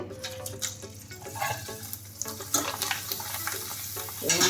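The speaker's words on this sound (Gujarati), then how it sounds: "હવે આપણે વેફરને એમાં થોડી થોડી એડ કરીને તળવાની છે" Potato wafers frying in hot oil on a gas stove, a steady bubbling sizzle with scattered crackles and some stirring, fairly close and continuous, with no talk.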